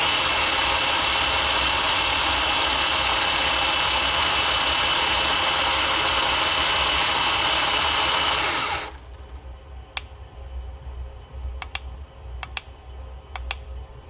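The stock electric motor of an SG 1203 RC tank, running on a 2S lipo, drives the tracks with a loud, steady mechanical whine. It cuts off abruptly, and a few sharp clicks follow in the quieter stretch.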